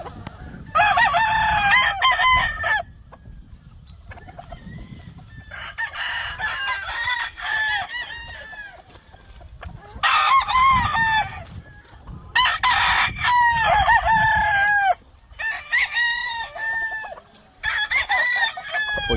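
Gamefowl roosters crow repeatedly on a farm in Hawaii, several loud overlapping cock-a-doodle-doos in bursts, with clucking and other fowl calls in between.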